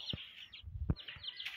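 Colourful rainbow chickens clucking softly in short bursts alongside chirpy calls, faint and intermittent, with light bumps between them.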